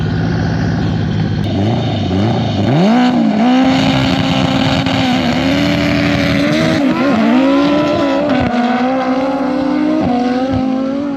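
Loud, close engine roar from a little Honda Civic drag racing a twin turbo Lamborghini, rising through several gear changes with sharp shifts and a steady high-revving drone, no talking.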